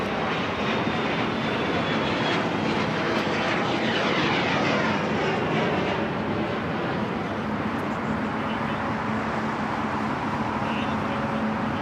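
An Air New Zealand Boeing 777-300ER landing on LAX's south side roars past at length, a loud, sustained jet engine rush with a sweeping pass, steady throughout without speech.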